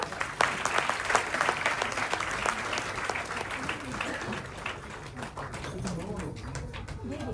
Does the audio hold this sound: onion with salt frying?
no